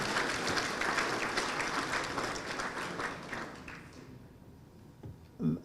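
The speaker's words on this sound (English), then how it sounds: "That clap was not for the Land Commission" An audience claps at a land policy address by Nigeria's Vice President Osinbajo: a dense burst of applause that starts full, then thins and fades out, ending with a brief separate knock.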